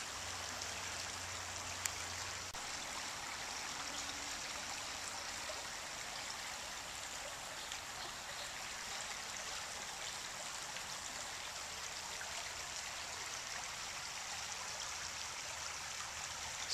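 San Pablo Creek flows through a small stretch of thick forest, a soft continuous rushing and trickling of water that holds steady and fairly quiet throughout.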